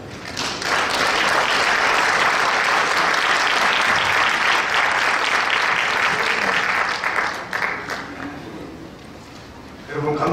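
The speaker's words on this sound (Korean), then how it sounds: "큰 박수로 맞으시고요." Loud, dense audience applause at a church inauguration service fills a hall, sustained for several seconds before thinning into scattered claps and fading near the end.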